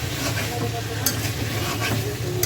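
Fish and potatoes are sautéed in a pan, heard as a constant close sizzle with scraping stirs and a sharp clink near the middle, no voices.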